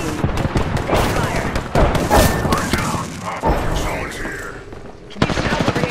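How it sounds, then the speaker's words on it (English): Rapid gunfire in a ranked battle royale match, loud bursts of automatic shots and thuds crowding together, with players talking over the shooting. "They're shooting at me."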